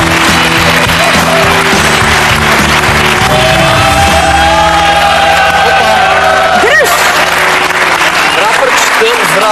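A TV studio audience applauds and cheers as rapper Itsaka IMP comes on, a loud continuous roar of clapping and whoops lasting nearly ten seconds, with music and voices mixed underneath.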